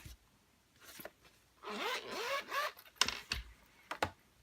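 Zipper being drawn around a softcover Leuchtturm 1917 A5 square grid notebook cover case, a close, steady zipping run lasting about a second, followed by a few sharp handling clicks and taps.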